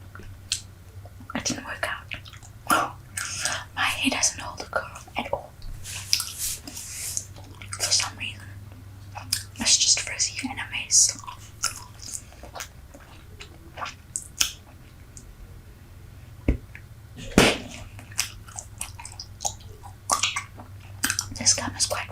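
Super Bubble gum is chewed right against a microphone, giving wet, squishy, rubbery smacks and pops in an irregular rhythm, with soft whispered talk mixed in.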